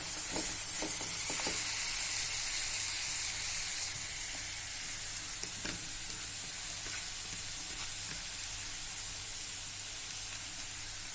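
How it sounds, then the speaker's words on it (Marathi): Chopped green eggplant, peas and chickpeas tipped into a hot pan of tempering for a green eggplant bharit, giving a steady broad sizzle with a few stirring scrapes near the start, fairly close and without talk. "आता यात टाकूया वांगे वटाणे आणि हरभरे जे आहेत मिक्स केलेले ते आपण टाकूया यात"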